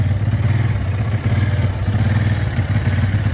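Geon Pantera motorcycle engine idling close by, a steady pulsing mid-pitched thrum with a light mechanical clatter throughout and no talk.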